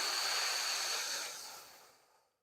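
A long, soft exhale through the mouth during a somatic stretch for scoliosis and back pain, a steady breathy hiss that fades out gradually to silence.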